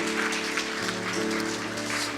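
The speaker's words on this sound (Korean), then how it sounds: "우리 하나님께 다시 한번 영광의 박수 올려드립니다." A church congregation claps together during a Korean Methodist church's 49th anniversary service, a dense, steady wash of applause filling the whole stretch at an even, loud level without pause.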